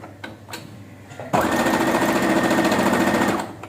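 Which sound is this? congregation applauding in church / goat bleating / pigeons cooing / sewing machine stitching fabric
sewing machine stitching fabric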